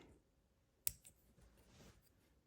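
A clear plastic part of a 1:48 Airfix Supermarine Spitfire Mk Vb kit is snipped off its sprue: one sharp, faint click near the start, then a few soft handling ticks in a quiet room.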